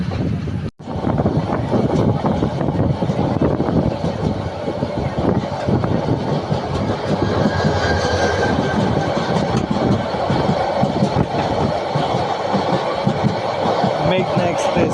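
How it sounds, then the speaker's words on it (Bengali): The Meghna Express train runs past on the Cox's Bazar–Chattogram line, a loud, sustained rumble and clatter of rail cars that fills the scene for its whole length, with voices mixed in. "মেঘনা এক্সপ্রেস ক্রস করতেছি আমরা।"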